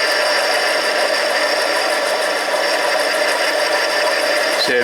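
A Harbor Freight 7x10 mini lathe taking a heavy cut on an aluminum tube, a dense, steady whirring and grinding drone held close and loud throughout, with a sharp change right at the end.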